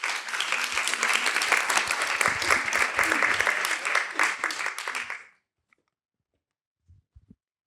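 Audience applause after a pitch presentation at a pitching event: a dense, steady burst of many hands clapping for about five seconds, then stopping abruptly, leaving near silence with a few faint knocks.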